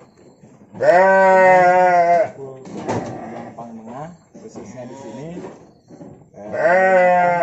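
Two loud, wavering sheep bleats at a farm where Garut and kacang breeds are kept, one early and one at the end, with someone talking between them.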